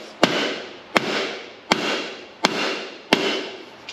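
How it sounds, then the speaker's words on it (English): A big hammer strikes an old Austin 7 brake drum five times at a steady pace, each blow a sharp, loud metallic bang with a brief ringing decay. "I might just get the big hammer out, get that one, give it a couple of"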